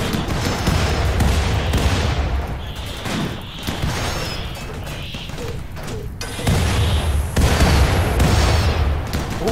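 Turrets in the Mountain Base Builder video game fire at enemies in dense, continuous bursts of booming and rattling gunfire that fill the whole stretch, loud and close, with brief dips before the barrage swells again.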